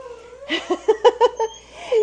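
A cat gives a close, loud run of rapid chattering meows and caterwauls, several short yowls in quick succession ending in a longer drawn-out cry, with no talking over it.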